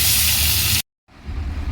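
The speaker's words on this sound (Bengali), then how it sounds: "গরম গরমে বেগুনটা দিয়ে দিলাম, বেগুনটা ভেজে বেগুনটা তুলে রাখবো" Eggplant slices dropped into hot oil for a Bengali achari dish give a loud, dense sizzle that cuts off abruptly, falls silent for a moment, then rises again as a steadier hiss of frying.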